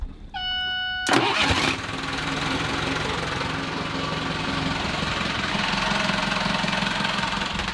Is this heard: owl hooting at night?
no